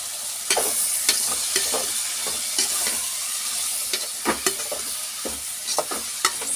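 About a quarter kilo of chopped cabbage is stirred in a hot pan for sambar, a soft continuous sizzle broken by irregular sharp scraping and clacking stir strokes, close and clear, with no talking.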